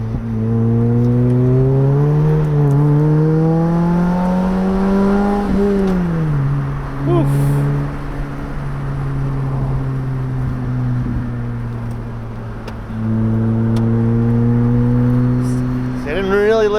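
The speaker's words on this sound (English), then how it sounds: "I finally have gotten pretty good at rev matching in the Elise" Lotus Elise engine revving as the driver rev-matches through downshifts, the engine tone climbing and falling in smooth sweeps, loud and close from inside the cabin.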